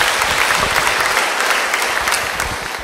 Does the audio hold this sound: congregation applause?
yes